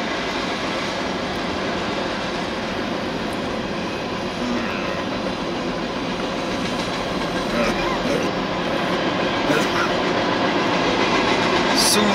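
A freight train rolls past at steady volume, a continuous broadband rumble of railcars with faint wheel clatter and occasional squeal, speech-like murmurs audible in the background.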